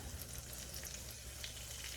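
Steady, bright sizzling and crackling of empanadas frying in hot lard, continuous and close, with no voices.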